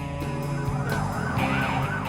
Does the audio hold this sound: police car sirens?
yes